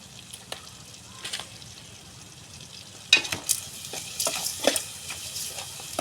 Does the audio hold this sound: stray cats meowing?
no